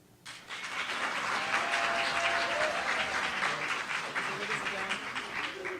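A comedy show audience claps steadily to vote for one contestant, a dense sustained wash of applause rising quickly and holding at even strength throughout.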